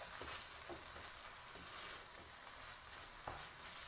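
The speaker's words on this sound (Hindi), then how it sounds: "हम इसको मिक्स करेंगे ताकि अंडा जो है हमारा इसमें अच्छी तरह से मिक्स हो जाए" Egg being stirred through vegetable fried rice in a hot pan, with a steady close sizzle and a few soft scraping strokes of the spatula running through it. No talk.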